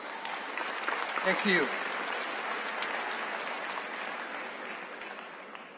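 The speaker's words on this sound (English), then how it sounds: "Please give them a one round of applause." Auditorium applause at a North Carolina Central University graduate commencement greets the standing Board of Trustees, a broad, sustained clapping that swells briefly and then holds evenly, while a voice speaks a few words over it.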